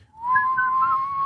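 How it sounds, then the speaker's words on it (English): A person whistles one sustained, steady tone that holds nearly level for more than a second, loud and close with no talk over it. "This was an over-the-top whistling scene."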